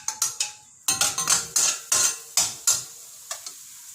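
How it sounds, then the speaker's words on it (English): Garlic and green onion stir-fried in very hot oil in a pan: about a dozen sharp scraping and clinking utensil strokes in an irregular rhythm, each followed by a short sizzle, loud and close, with brief pauses between strokes. "Stir fry them."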